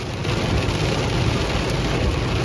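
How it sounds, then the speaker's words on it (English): Heavy rain falls steadily outdoors, a dense, loud, continuous hiss of drops with no voices. "Now it's really raining."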